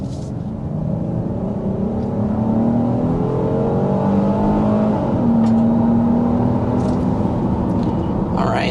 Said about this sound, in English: there's a little past 60 miles per hour in the 25 Kia Carnival SX Prestige